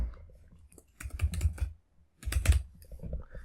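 Fingers type on a computer keyboard in two quick bursts of close, clicky keystrokes separated by a short pause, with no talking.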